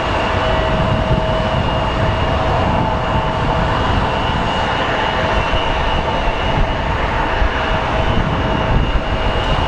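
Airplane at Phoenix Sky Harbor International Airport, a steady, loud broadband jet roar with a faint constant whine, continuing unbroken for about ten seconds with no talking.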